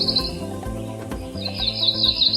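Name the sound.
cerulean warbler song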